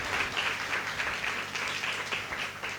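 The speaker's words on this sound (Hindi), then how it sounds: "एक बार ताली बजा के प्रभु के नाम की स्तुति करें।" A church congregation at Sunday worship claps together in praise, a dense, steady round of applause that fills the room for a few seconds.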